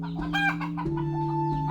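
Chickens clucking in a rural village in Central Java, where residents are feeding their livestock; short, close clucks over a steady background hum.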